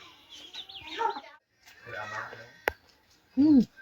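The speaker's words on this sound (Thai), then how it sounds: "มาจับดูไก่นะผู้ชาวนะ" A chicken being caught on a rural Thai village smallholding clucks and squawks in short bursts, ending in a loud close squawk, while people talk nearby.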